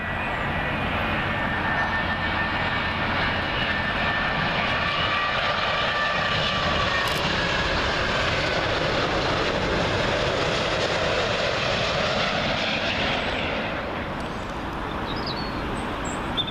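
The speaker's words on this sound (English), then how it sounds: "Virgin Atlantic 787-9 Dreamliner in from Nassau" A Virgin Atlantic Boeing 787-9 Dreamliner lands at Heathrow on runway 27L, its broad jet roar loud and close, holding steady for a long stretch before easing slightly as it passes.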